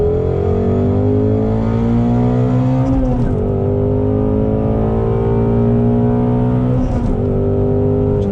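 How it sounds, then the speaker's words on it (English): Ford Shelby GT350 engine pulling hard on throttle through a corner, a loud steady roar with rising harmonic tones and two brief dips as the revs shift, close and continuous with no talk. "look at the grip from the front on this, coming around on throttle"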